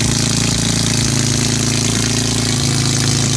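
An S54-swapped BMW E30 idling on a new exhaust, a loud, steady, throbbing burble with a rapid pulsing beat, heard close up and alone.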